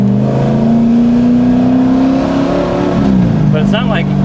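Loud, rumbling engine of a modified 2003 Corvette Z06 while driving, a steady drone rising gradually in pitch before a shift, with a voice speaking over it near the end.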